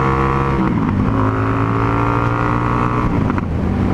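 A 2019 Indian FTR 1200S motorcycle accelerating hard in first gear, the loud, close engine rising steadily in pitch with rushing wind throughout.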